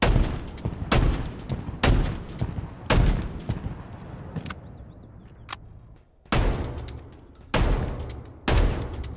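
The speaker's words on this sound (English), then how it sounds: "Weapon sounds will change in different locations." Rapid gunfire bursts from weapons in the video game Halo Infinite, loud and repeated in clusters with short gaps, alone without talk.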